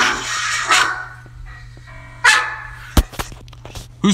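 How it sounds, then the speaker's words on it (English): Dog barking: a few short, sharp barks and yips, fairly close, spaced irregularly over a few seconds against a low steady hum. "Who's barking?"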